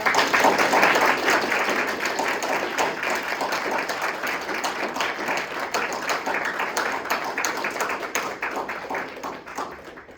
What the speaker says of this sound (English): let's give Abby another round of applause